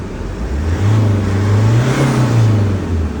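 A Hyundai Terracan's 2.9 turbo diesel engine is revved once, close and loud, rising from idle to a brief peak and dropping back within a few seconds.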